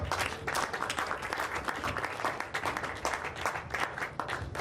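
A church congregation applauds, dense sustained clapping from many hands filling the room throughout, with a few faint voices mixed in.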